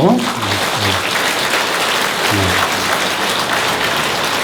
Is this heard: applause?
yes